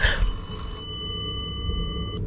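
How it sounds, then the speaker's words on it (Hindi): A telephone rings in the Kamla Indian horror video game, a bright electronic bell trill followed by a sustained steady tone, clear over a low background hum. "चुप हो, फोन कौन कर रहा है भाई, तार तो कनेक्ट ही नहीं है।"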